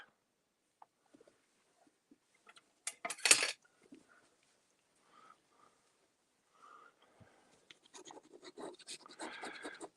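A fountain pen nib scratches over paper in quiet, scattered strokes, with one sharper scrape partway through and a denser run of writing at the end.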